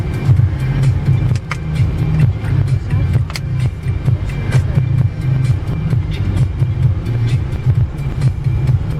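A car drives along a road toward the beach in Ulcinj, Montenegro. A steady loud engine and road rumble fills the whole stretch, heard from inside the car, with faint scattered knocks and soft indistinct voices.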